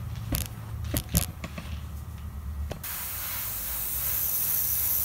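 An airbrush sprays paint onto a picture frame: a few sharp clicks and taps, then a steady, soft hiss that continues to the end.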